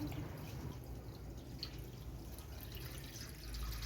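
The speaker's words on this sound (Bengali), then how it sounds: "আমার ফিশ ট্যাঙ্কে জল ভরা কমপ্লিট" Water runs steadily and drips while a home fish tank is being filled, a continuous watery wash close by with no talking.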